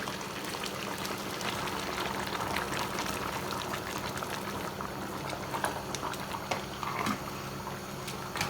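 Boiling water goes into a pot of atama soup with spinach, a steady bubbling, hissing wash of liquid heard close and continuous, with a few faint clinks and taps on top.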